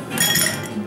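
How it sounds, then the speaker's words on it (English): Ice cubes clink and rattle as they drop into a tall glass while a strawberry mocktail is made, a quick, bright burst of close glassy knocks that fades within a second. "Take a tall glass, add 2 to 3 cube of ice in a"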